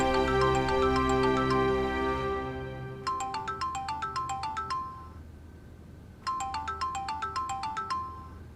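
A phone rings with a looping electronic ringtone, bursts of quick repeated chimes separated by short pauses, steady and fairly clear with no voices.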